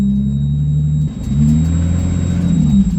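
A Lexus GS300 engine, stripped for a budget drift build, runs with a deep, loud rumbling idle close by and swells briefly into a rev partway through.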